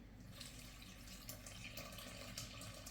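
Lukewarm water pours steadily and faintly into a bowl of bread dough ingredients, a soft continuous splashing and trickling with no talking.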